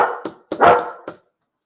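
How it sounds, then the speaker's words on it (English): A dog barks back and forth with another dog up the road: a few sharp, close barks in quick succession, one longer and louder than the rest, then quiet. "she's having a barking competition with another dog."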